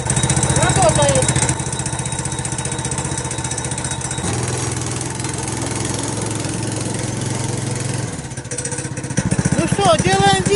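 Small single-cylinder engine of a Lider Sigma 2K motorized snow towing unit runs steadily at close range with a droning, buzzing idle, shifting pitch partway through, with brief voices over it near the start and end.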